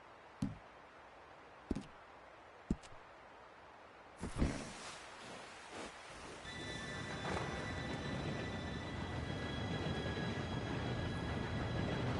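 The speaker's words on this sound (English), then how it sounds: "Train should be here any minute now." A steam train rolls in to a station in the Red Dead Redemption 2 video game, a rising rumble with squealing metallic wheel tones building steadily after a few sharp clicks, loud and sustained to the end.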